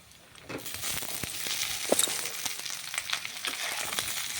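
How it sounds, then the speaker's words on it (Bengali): Vegetables being stir-fried in a pan, a quiet start giving way to a continuous hissing sizzle with scattered stirring clatters and crackles, close and moderately loud. "এরপরে এগুলোকে ভালো করে আমি নেড়ে ছেড়ে ভেজে নেব"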